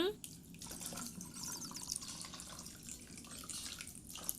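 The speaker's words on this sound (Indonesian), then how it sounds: "ini kita siram dengan air matang" Boiled water poured over drained sago pearls for an iced dessert drink, a steady close splashing pour running throughout without speech.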